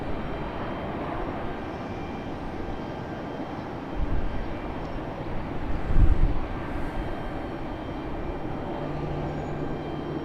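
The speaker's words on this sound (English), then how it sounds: "Let's go over here and check out Air Canada's" Air Canada airliner being pushed back at Raleigh-Durham airport, a steady broadband jet engine and ground roar with a brief louder swell midway, heard from a distance and with no talking.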